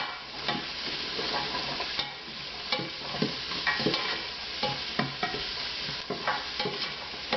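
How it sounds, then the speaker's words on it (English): Carrot, celery, onion and garlic cook in a soup pot while being stirred, giving a steady close sizzle broken by repeated scraping strokes of the spoon, with no talking. "So I'm going to throw in my carrot and my celery, and I want that to get soft. Start mixing that all in."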